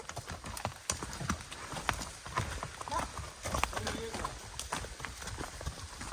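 Horse hooves clip-clop in a quick, steady rhythm on a trail leaving a ranch, close and fairly loud, with people talking intermittently over the hoofbeats.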